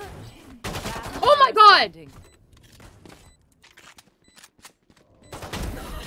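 Frenzy pistol gunfire in the game Valorant: a quick burst of rapid shots near the start, then quiet, then more firing at the end, with an excited voice shouting over the shots.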